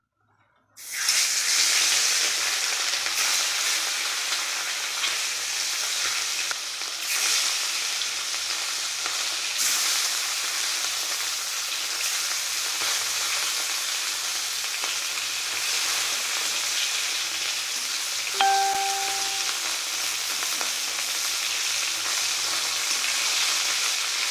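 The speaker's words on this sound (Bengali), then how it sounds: "তেল গরম হয়ে গেছে এবার মাছটা ভেজে নেবো" Fish, a bhangan fish for a thick curry with beans and brinjal, frying in hot oil, a steady loud sizzle holding for the whole stretch with a short clink of a utensil partway through; no talking.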